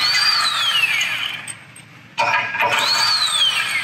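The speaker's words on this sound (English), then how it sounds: "we can now remove these lower bolts" A power tool whirs while removing the lower bolts of a modular rear bumper on a Land Cruiser LC100. Two loud whining bursts come from close by, with pitch sweeping down in each and a short quieter gap between them.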